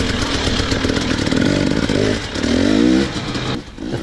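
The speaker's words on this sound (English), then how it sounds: "I'm on Sean's 2018 250XC with Lectron carb" 2018 KTM 250XC two-stroke dirt bike fitted with a Lectron carburetor being ridden, a loud buzzing engine that rises and falls in pitch with throttle changes and revs, heard close and continuous.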